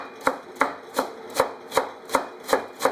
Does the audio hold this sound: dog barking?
no